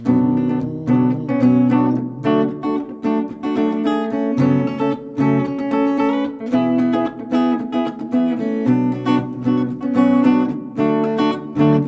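Solo acoustic guitar plays the melody of a song over chordal accompaniment, steady and close, with no talking.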